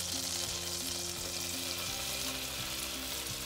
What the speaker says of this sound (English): I've got 3 tablespoons of butter I'm heating up. And I'm going to mix in 3 tablespoons of flour.